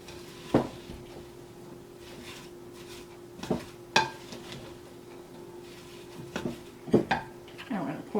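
Apples stirred into a batter in a mixing bowl while baking mini apple crumb pies, with several sharp spoon-against-bowl clinks and scrapes spaced irregularly over a quiet background.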